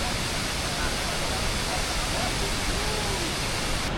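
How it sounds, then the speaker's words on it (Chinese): A large waterfall at Bingtanong Mountain roars as a steady, loud broadband rush of falling water, constant and close, with no pauses or other sounds standing out over the full four seconds. "冰塔农山第3场大瀑布"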